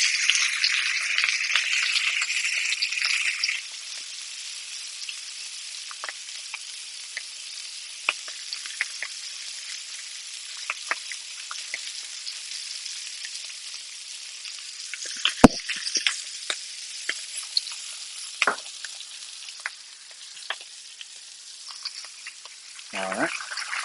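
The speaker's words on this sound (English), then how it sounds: "I'm just going to let you guys listen to this here" Apricot bourbon glazed pork chops frying in a pan, a steady close sizzle with louder hiss at first, then continuous crackle dotted with sharp pops and spits, no talking.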